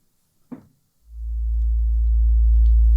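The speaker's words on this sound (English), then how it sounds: "as you can hear, it's like basically a normal sine wave" A Piston Honda oscillator on a modular synth, routed through a VCA, swells in after a brief soft knock and holds as a loud, pure, low sine tone.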